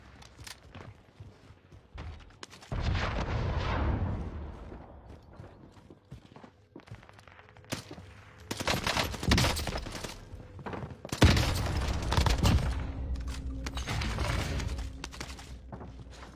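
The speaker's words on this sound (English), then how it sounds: "Tried to hit me with an RPG" Gunfire and an RPG explosion in the video game Warzone, heard as loud, broadband blasts and bursts at intervals over a rumbling background, with no talk.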